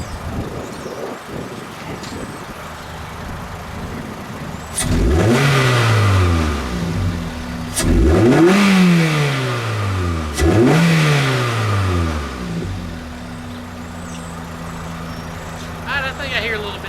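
A Pontiac Vibe engine fitted with an HPS performance intake revving in three distinct surges, each climbing and falling away, loud and close, with idle between the pulls.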